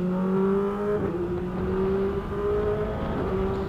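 Kawasaki ZX25R motorcycle engine revving hard with quick-shifted gear changes, a loud, steady high-pitched drone with brief dips in pitch at each shift, close by and without talk.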